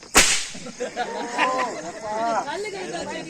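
A whip lashes once in a Tamil stage drama, a single sharp, loud crack near the start, followed by actors' voices speaking and shouting over stage ambience.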